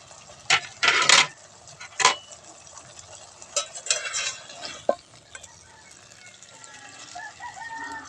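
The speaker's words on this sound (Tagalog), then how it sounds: "Haluin lang natin siya ng mabuti at pwede na itong hanguin." Fried tofu is stirred into adobong kangkong in a pan, giving sharp scraping and clattering strokes in scattered bursts, loud at first and then softer, with a rooster crowing faintly in the background.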